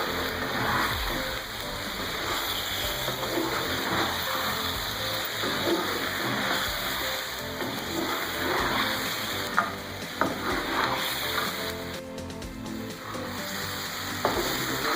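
Steady, loud sizzling of mutton frying in a hot wok for a karahi, a continuous crackling hiss with occasional stirring scrapes, no voices.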